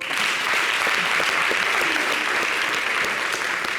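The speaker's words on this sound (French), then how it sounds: "Ça s'applaudit, s'il vous plaît." A studio audience on a French-language television show applauds after donations are announced, producing loud, thick, continuous clapping from many people that stays level throughout without speech over it.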